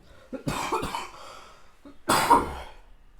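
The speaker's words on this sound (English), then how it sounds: "I am coughing a lot" Several loud, close coughs in two bursts from a podcast host, a first cluster of harsh hacks followed by a pause and then a stronger, rasping cough, with no talking.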